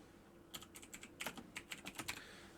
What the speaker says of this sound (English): just by double clicking them and then typing over the top of each of those